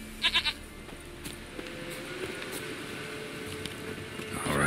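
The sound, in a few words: goat bleating in the video game The Witcher 3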